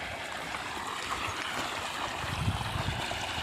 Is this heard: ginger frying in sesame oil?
no